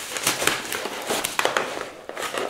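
A Tt eSPORTS Meka G1 keyboard is pulled out of its foam sleeve, giving close, continuous crinkling and rustling with several sharper crackly bursts throughout.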